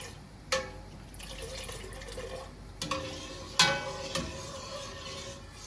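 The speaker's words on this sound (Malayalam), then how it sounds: "നല്ലപോലെ പാല് തിളച്ച് വരട്ടെ." Milk heats to a boil in a pot for homemade rasgulla, giving a soft liquid bubbling and sloshing with a few sharp clinks scattered through it.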